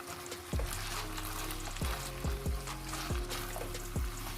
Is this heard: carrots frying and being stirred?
yes